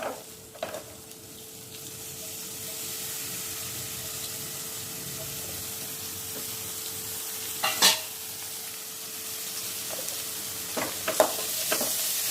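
Gooseberry rice (nellikka sadam) made with green gooseberries being stirred in a pan, soft scraping and light sizzling with a few sharper spoon clinks against the pan near the end, no talking.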